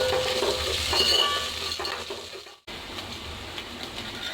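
Ginger garlic paste sizzles and fries in a pan while being stirred for an egg dum biryani, a steady close crackle with a few utensil scrapes and clinks, cut off abruptly midway and resuming more quietly.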